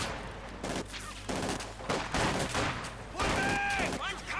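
Rapid submachine gun bursts from a Company of Heroes 2 battle, a Soviet-versus-German real-time strategy game, rattle loudly in dense volleys among explosions and other battle noise throughout.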